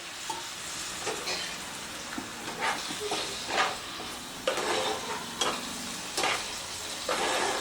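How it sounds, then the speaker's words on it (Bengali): Eggs stir-fried with ground pepper, garam masala and salt in a pan with a splash of water for a street-style gravy, steady sizzling with repeated scraping strokes of the spatula, close and moderately loud, no talking. "তো মশলার সাথে ডিমটাকে ভালো করে কষিয়ে নিচ্ছি।"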